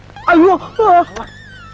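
A dog whimpers and yips in two drawn-out, wavering cries in a Tamil comedy scene, with a brief sharp sound after, close and fairly loud over a low background hum.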